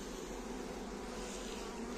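A captured honeybee swarm gives off a dense, continuous buzz, close and steady throughout.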